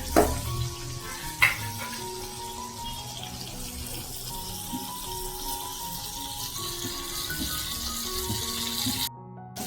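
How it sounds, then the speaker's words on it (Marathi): Ribbon fish pieces fry in a pan with a steady, close sizzle throughout, a couple of sharper pops or clatters early on, and faint background hum; no talking. "आपल्याला थोडा वेळ पाच मिनिटं अजून फ्राय करायची आहे"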